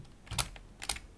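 Keys on a computer keyboard are pressed for a Control Shift shortcut in an Excel spreadsheet: two quick clusters of close, crisp plastic clicks about half a second apart, alone without speech.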